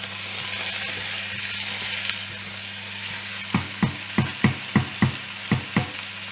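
Turkey osso buco with onion sizzles steadily in a frying pan, then a spoon stirs it in a run of about nine close, evenly spaced scraping knocks over the constant frying hiss.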